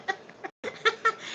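A rooster gives a handful of short clucks in quick irregular bursts, close and fairly clear, with a brief gap in the middle.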